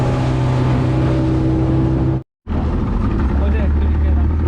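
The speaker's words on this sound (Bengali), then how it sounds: "ভাই আমার চালাইতেছে স্পিড বোট সুন্দরভাবে" A speedboat engine drones loudly and steadily on the Padma River near Mawa ghat, broken by one brief dropout, with a deep hum and wind rush. Voices talk over it.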